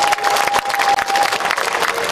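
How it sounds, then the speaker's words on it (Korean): A crowd gives a steady, full round of applause at the opening ceremony of a city's citizens' day event, continuous dense clapping close by with no talk over it. "축하의 박수 부탁드리겠습니다."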